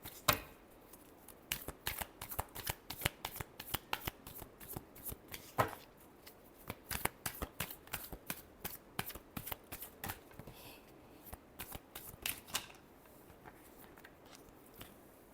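Tarot cards being shuffled close up in a long run of quick, snappy riffles and flicks, with steady rhythm broken by short pauses, no voices.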